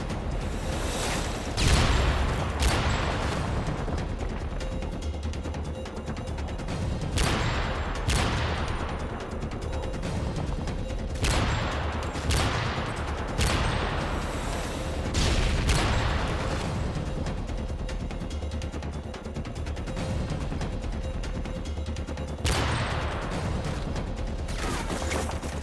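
Assault rifle fire in the video game Call of Duty: Modern Warfare 3, a Spec Ops mission: repeated loud cracking shots and short bursts spaced every few seconds, with booming reverberant tails over a low rumbling background, no speech.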